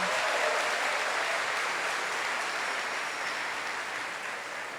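A church congregation claps for the Lord during a Catholic mass: steady, dense applause fills the room evenly for several seconds, slowly tapering toward the end.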